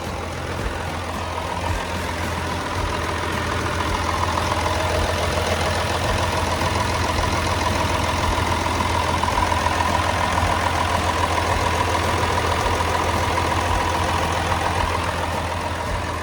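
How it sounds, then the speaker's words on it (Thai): A Komatsu WA470-6 wheel loader's 6D125 diesel engine idles steadily with a deep, even rumble and a knocking chatter, close by and continuous with no voices. "เครื่องยนต์เขาเนี่ยก็ทำงานได้แน่นดีปกติเลยนะครับ"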